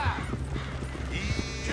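Horse-drawn coach in a video game approaching, with steady clip-clop hoofbeats and rolling rumble over a continuous game soundscape, while voices talk over it.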